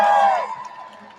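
A draft-night crowd of Winnipeg Jets fans at the NHL Draft, cheering and whooping in a brief, loud burst that fades quickly into a lower murmur.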